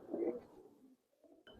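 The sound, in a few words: Giribaz coloring pigeons cooing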